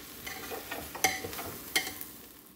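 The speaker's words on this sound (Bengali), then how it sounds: "আলু আর মটরশুঁটি, চাল ডাল পালং শাক দিয়ে একটু ভালো করে নেড়ে নিচ্ছি" Potatoes, peas, rice, lentils and spinach stirred in a pot for khichuri, soft sizzling with several distinct scraping strokes and two sharper clanks of the spoon against the metal.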